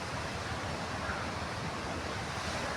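Wind blowing through an outdoor park, a steady, even rush of broadband air noise with no gusts standing out and no voices.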